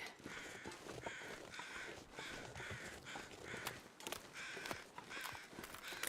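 Crows in The Long Dark caw repeatedly from a distance through steady wind in a foggy outdoor scene, with crunching steps now and then.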